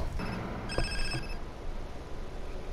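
A phone rings in Grand Theft Auto San Andreas, a clear electronic trill repeated in two bursts over continuous game background noise, with no one speaking.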